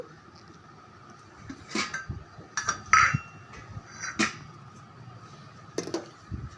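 Metal clanks and scrapes of a small metal kadai being set down on a stove and shifted, a few sharp knocks spaced irregularly in a quiet room.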